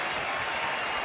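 A baseball stadium crowd at Boston versus Texas cheers and claps in a dense, sustained roar of applause, loud and unbroken for the whole moment.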